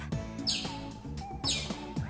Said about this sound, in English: Here's a chirp.